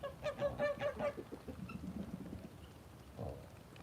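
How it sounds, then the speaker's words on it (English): Farm geese honk in a quick burst of several calls, followed by lower scattered noises and one more honk near the end, moderately close and without talk. "These geese are wonderful."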